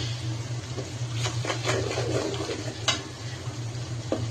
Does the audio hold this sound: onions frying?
yes